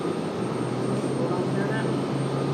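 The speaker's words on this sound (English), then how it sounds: "3350, coming in from Fort Lauderdale." A Southwest Airlines jet arriving at Raleigh-Durham (RDU) airport, heard as a steady, loud, broadband roar that holds evenly throughout the short stretch.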